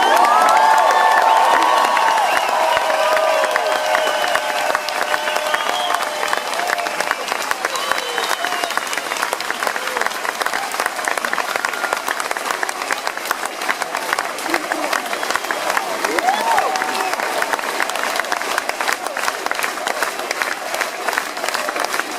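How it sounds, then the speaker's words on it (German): A large crowd in Freiburg applauds and cheers loudly for national football coach Jogi Löw at a public thank-you event, dense sustained clapping with whoops and shouts throughout. "Nochmal einen riesen Applaus bitte."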